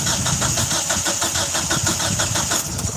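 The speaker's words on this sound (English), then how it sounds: "Crank that thing over, it's supposed to get some kind of gas coming up now." A car engine cranks over steadily without catching, a loud, close, rhythmic whirring churn of the starter running continuously with no voices.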